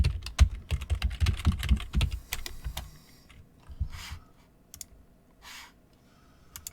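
Computer keyboard keys clatter in quick, irregular bursts while a root password is entered during a CentOS 8 install, followed by a few sparse, fainter clicks and taps.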